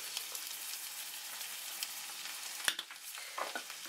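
Minced beef filling for Peruvian empanadas stirred and sizzling in a frying pan, a steady close hiss of frying with light scraping touches and one sharper knock of the utensil near the end.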